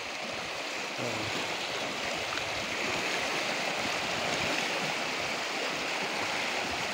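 Strong current of the Labangan River in Occidental Mindoro, Philippines rushing steadily, a dense continuous roar of flowing water with no pauses and no voices.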